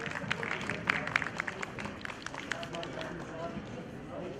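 Applause from a seminar audience at a university event on Palestine, steady dense clapping with some sharper individual claps, fairly distant, blended with crowd murmur and no clear speech.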